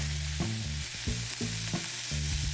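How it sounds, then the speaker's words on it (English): Smash burger patties sizzle on a Weber Q griddle plate, a steady close hiss with low tonal thumps as the meat is pressed down several times. "Add the meat for the Smash Burgers, and give them a smash."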